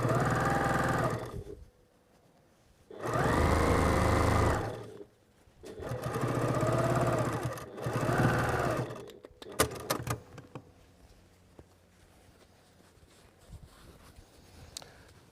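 A sewing machine stitches a fabric base into place, running in three or four loud, steady bursts separated by short pauses, then stopping, leaving light clicks and handling noises.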